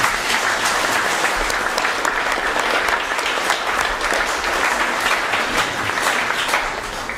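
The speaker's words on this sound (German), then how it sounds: "Ich denke, das verdient einen Applaus." An audience at a book reading by an author in the Bürgersaal in Munich claps steadily for several seconds, a loud, even wash of applause that fades slightly at the end.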